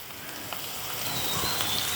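Mango pieces roast in a pan with garlic, small onions and dried red chilies for a chammanthi chutney, giving a steady, close hiss and crackle of sizzling that builds slightly over the two seconds.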